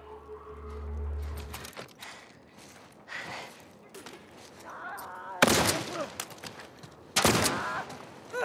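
Pistol gunfire in The Last of Us remake on PS5, with two sharp loud shots ringing out over a game ambience that carries quieter noises and faint voice-like sounds.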